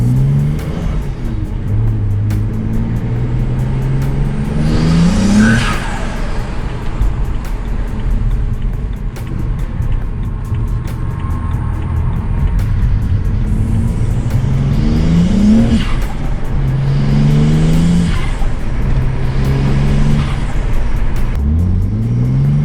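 A BMW E90 with a manual gearbox and turbocharged engine revs repeatedly, each rise in pitch ending in a sharp drop, with turbo whoosh and flutter between pulls over a constant loud engine drone.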